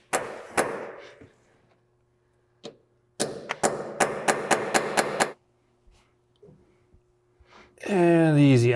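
A hammer strikes an easy out extractor on an M274 Mechanical Mule: two sharp metallic blows, a pause, then a quick run of about eight evenly spaced ringing hits, loud and close. A voice follows at the end.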